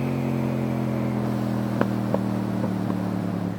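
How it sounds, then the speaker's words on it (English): A motorcycle exhaust lets out a few sharp pops and crackles over a steady, droning engine hum, with no talking. "Yes, I love those exhaust pops."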